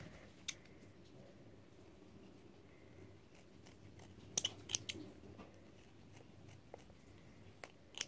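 Scissors cutting a plastic baby bottle part, giving a few faint, sharp snips and clicks scattered over a quiet background hum, close by and with no talking.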